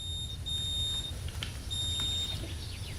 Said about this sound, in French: Je suis déjà en alarme de surexposition à oxygène.